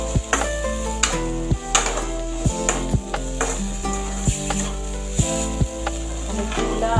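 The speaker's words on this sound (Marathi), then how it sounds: "आता आपल्याला कोळंबी घालायची आहे. परत एकदा चांगलं परतवून घ्या." Prawns stir-fried in hot oil give a steady close sizzle, broken by regular scraping and clattering strokes of a spatula against the pan, with soft background music underneath and no voices.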